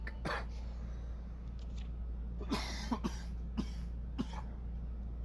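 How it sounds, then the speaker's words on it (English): Several short, dry coughs close by, spaced out over a few seconds against a low steady hum, with no talking. "And it makes you cough a little bit as well."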